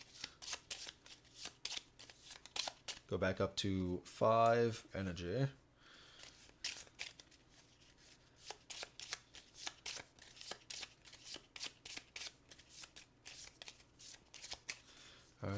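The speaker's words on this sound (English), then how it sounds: "we have to shuffle our discard." Game cards shuffled repeatedly during a solo tabletop session of Giant Killer Robots: Heavy Hitters, crisp riffling bursts near the table with a player talking throughout.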